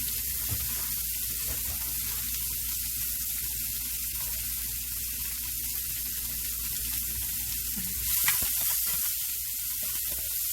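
Stuffed meatballs fry in a hot skillet over medium-low heat with a steady, close sizzle throughout. There is a brief louder crackle near the end.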